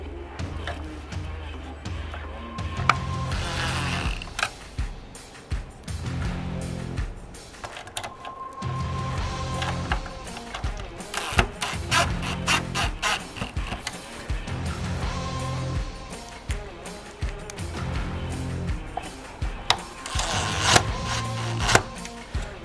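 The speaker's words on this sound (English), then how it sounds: "to start putting the screws back in, you wanna put your radiator mount back on" Screws are driven in with a power tool to secure the radiator mount during a Runner Pro grille install. Several whirring bursts of a few seconds each are separated by pauses, with clatter and handling noise between them.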